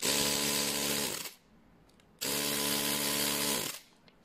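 A portable lithium battery air inflator pump runs its motor in two bursts of steady, loud buzzing whine, each lasting over a second, separated by a short quiet pause, close up and alone.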